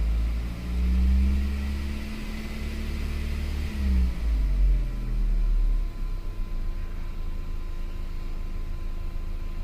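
A 2003 Volkswagen Passat with the 1.8T engine, running lean and misfiring, is given gas. The engine climbs and falls in one swelling rev, then settles back to a low, steady idle rumble.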